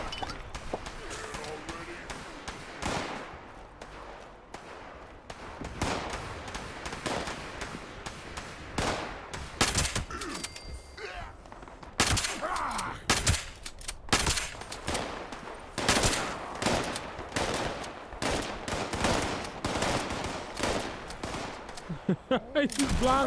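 Rapid, erratic gunfire from an enemy in Fallout 76, with sharp shots and bursts coming close together through the whole stretch over a busy game background.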